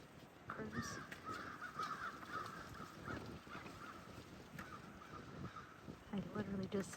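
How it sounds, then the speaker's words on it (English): Crows caw repeatedly on a wooded back slope, harsh calls spread through the clip at moderate distance, with a person talking quietly underneath. "Crows."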